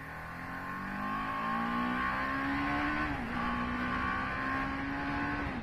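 A TVS Apache RR 310 motorcycle, a 310 cc bike with ABS, being ridden with a passenger on the back: a loud, steady engine drone that climbs in pitch, briefly drops at a gear change, then holds, with no talking.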